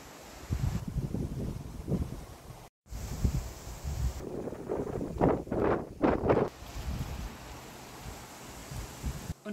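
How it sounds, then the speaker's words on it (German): Wind blowing across a lake in Tiveden National Park, Sweden, a steady broadband rush with low gusting rumble and buffeting against the microphone, a brief dropout near three seconds, no voices. "heute zum Beispiel ist ein windiger Tag. Ich höre den Wind"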